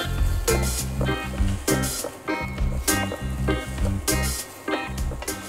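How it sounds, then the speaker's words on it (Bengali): Fried banana flower with onions sizzling in a pan for a Bengali mochar ghonto, a dense close sizzle with rhythmic stirring scrapes and bursts of spattering throughout, no talking. "2 টেবিল স্পুন মতো ভাজা মোচা আমি এখানে অ্যাড করব।"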